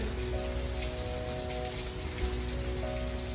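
Steady rain pattering on a surface, continuous and even, with a faint hum underneath.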